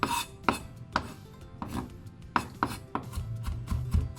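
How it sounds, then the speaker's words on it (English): A knife taps repeatedly on a cutting board while mincing garlic, a series of sharp, close knocks at an uneven rhythm, roughly every half second, with faint scraping between strokes. "So we're gonna mince the garlic."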